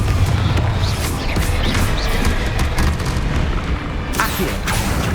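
Confringo blasting spell explodes again and again in the Hogwarts Legacy video game, a loud dense run of booms and crackling bursts over a steady rumble, with spoken incantations mixed in.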